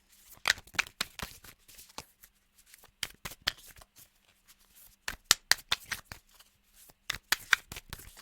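Tarot cards shuffled by hand in bursts of crisp riffling flicks, close and fairly loud, with short pauses between flurries and no talking.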